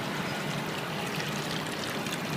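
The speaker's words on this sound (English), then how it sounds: "Now you can see that water is pumped in the upper tank" An electric water pump pushes water up into an overhead tank, giving a steady, even rush of flowing, trickling water with no breaks and no voices.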